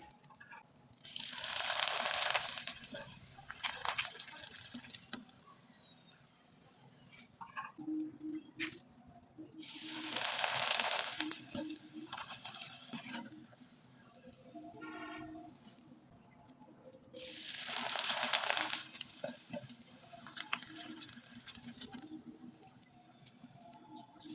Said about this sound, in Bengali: এখন কয়েকটা পিঠা আমি তেলে ভেজে দেখিয়ে দিচ্ছি